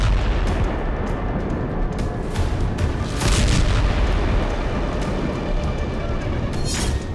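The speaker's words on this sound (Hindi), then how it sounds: "हवा से बम गिराया गया और जोरदार धमाके के साथ नेटो देशों से आए हथियार भस्म हो गए।" Heavy rumbling blasts from an aerial bomb strike on a weapons depot in the Russia-Ukraine war, a continuous loud roar with a surge around the middle and another burst near the end, no voices.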